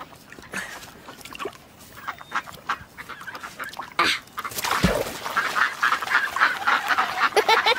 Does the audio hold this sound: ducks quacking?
yes